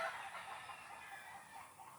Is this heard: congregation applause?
no